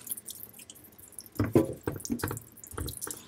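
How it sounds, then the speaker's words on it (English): Water trickles and drips onto a Naniwa Gouken Arata 10000 sharpening stone plate, a series of wet splashing bursts with short pauses, close and fairly quiet. "Let me get some water running on the plate."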